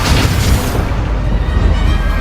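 A Bombarda spell blast goes off in the Hogwarts Legacy video game, a loud, dense, booming explosion that fills the whole clip without a break.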